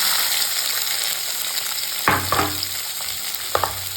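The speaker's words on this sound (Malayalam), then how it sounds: "നമുക്കൊന്ന് ഇളക്കി കൊടുക്കാതെ അങ്ങനെ ചെറുതായിട്ട് ഇളക്കി കൊടുക്കുകയാണ്." Tomato, onion, curry leaves and green chillies sizzle in hot oil in a pan, a steady frying hiss broken by a few sharp scraping stirs of a spoon, close and moderately loud, with no one speaking.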